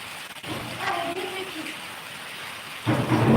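Steady rain falls throughout, with a heavier downpour swelling near the end; a voice talks briefly over the rain early on.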